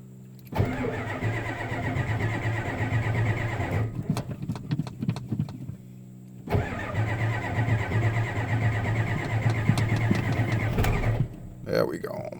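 1990 Ford diesel truck with suspected faulty glow plug solenoid, cranking in two long, loud, rhythmic starter bursts separated by a pause, the engine nearly catching at the end.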